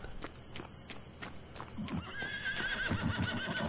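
A horse in the Masquerada: Songs and Shadows video game whinnies, then its hooves clip-clop in a quickening rhythm as it sets off, fairly quiet and with no voices over it.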